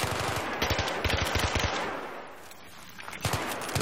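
Battlefield 3 gunfire rattles out in rapid automatic bursts. Two clusters of loud shots are split by a short lull filled with softer battle noise.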